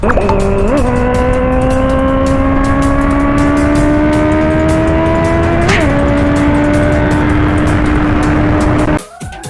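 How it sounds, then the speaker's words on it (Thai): Cars racing at a night street race in Trang, Thailand: a loud, close engine with steady high revving that drops briefly at each gear change, continuous and alone, then cutting off sharply at the end. "คือมีการ แข่งรถนะครับผม"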